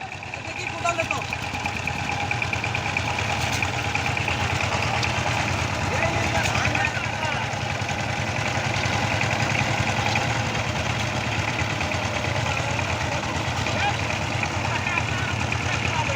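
Power tiller engine running steadily in a farm field, a loud continuous mid-pitched drone with rattling vibration heard close for the whole stretch, with people talking faintly over it.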